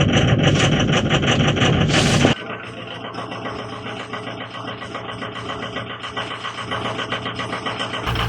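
A cold diesel truck engine idles after work on sticking injectors, a loud rush at first, then a steadier low idle with a rhythmic clatter running evenly to the end.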